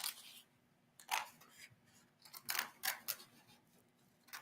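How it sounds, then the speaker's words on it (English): Scissors snipping paper at close range in a painting and furniture-decorating session, a few crisp separate cuts in two small bursts with quiet pauses between them. "So I'm gonna snip in here."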